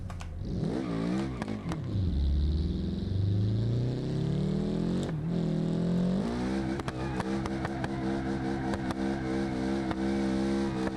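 A drift car engine in BeamNG.drive revs hard, its pitch sweeping up and dropping in repeated surges and shifts, loud and close throughout with brief cut-outs as the clutch is kicked, and no talk.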